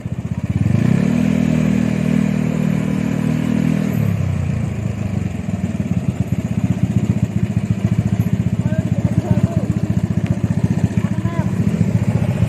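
A motorcycle engine on a group ride in Batangas runs close by, humming steadily at first, then breaking into a rapid, uneven clattering sputter that continues to the end, with people talking over it.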